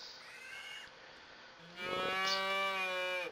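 A cow in Agricultural Simulator 2013 gives a long, steady moo that swells louder partway through and carries over a faint low background hum, with no voices.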